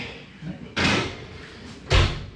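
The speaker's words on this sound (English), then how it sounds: "close that door so we'll leave all the heat on." A kitchen oven door is handled in two sharp bursts: a thud-and-rattle about a second apart, then a heavier closing knock, close by with faint background noise.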